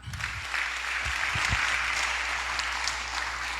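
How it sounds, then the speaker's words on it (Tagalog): A church congregation breaks into applause, a steady, even wash of clapping that starts after a brief voice and holds for a few seconds. "Palakpak."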